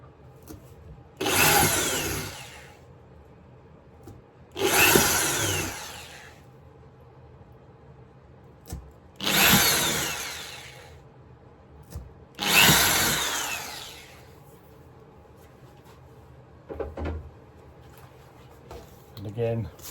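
A power drill bores holes into wood in four loud bursts of about two seconds each, with quiet pauses between them and a brief softer whir near the end, all set in a model railway workshop.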